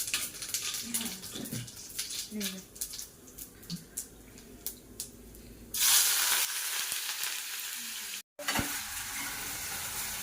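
Cumin seeds sizzling in hot oil for a dal tadka, a bright crackling hiss near the pan with stirring clatter and a burst of louder frying partway through.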